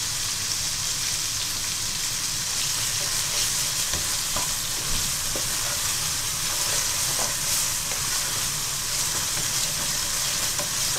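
Spices and ginger sizzle in a pan while being fried for vegetable pulao, a dense, steady crackling hiss with occasional faint stirring scrapes.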